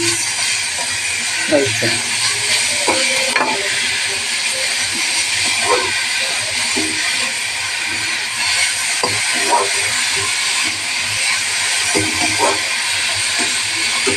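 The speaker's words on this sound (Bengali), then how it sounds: "এই দেখো আমি পেঁপেটা ঢেলে দিলাম" Chopped papaya poured into hot oil hisses in a steady, bright sizzle that continues throughout, with someone talking intermittently over it.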